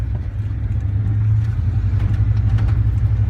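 A vehicle drives along a residential street, heard from inside: a steady, loud, low engine rumble with a constant hum and no talk.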